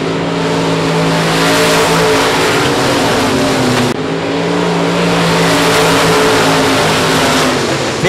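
Race cars roaring around a dirt track at a South Texas Shootout event, with engines droning loudly and continuously throughout, layered revving and a brief dip midway, with no one talking.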